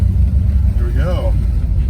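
A classic car's engine rumbles steadily and close as it eases out onto a Pasadena street during a heritage car cruise, with a voice speaking briefly over the low drone.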